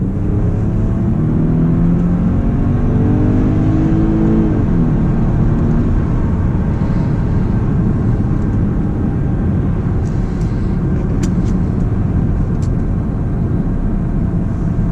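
An Audi A6 C6 Quattro with automatic transmission drones steadily as the throttle is pressed, its engine note rising in pitch early on and then settling into a constant, close, loud hum with no talking.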